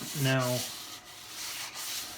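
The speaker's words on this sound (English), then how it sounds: "I'm going with the wet and dry sander straight away, rather than even the finer sanding papers I've got" Wet and dry sandpaper rubs back and forth on cured resin with water, a continuous gritty scrubbing that is close and steady, with a short spoken word at the start.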